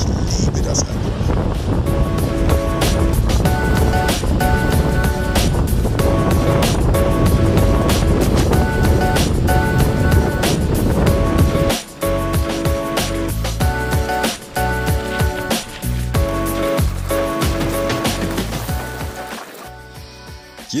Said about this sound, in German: Aber geile Wellen, oder?